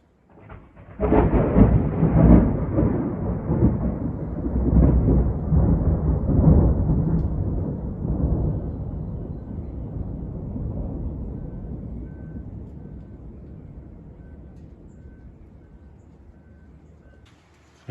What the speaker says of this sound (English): I'll put it on time lapse and see if I can catch some thunder.